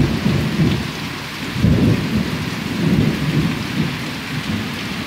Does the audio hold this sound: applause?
no